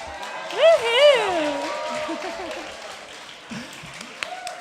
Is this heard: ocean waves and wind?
no